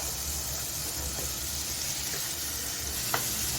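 Crispy chicken fingers frying over a medium flame give off a steady broadband sizzle, close and continuous, with a faint low hum underneath and one brief sharp pop near the end.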